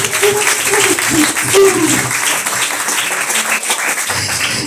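A church congregation claps during a live deliverance service, a dense, steady wash of applause that runs throughout, with voices and crowd noise mixed in underneath.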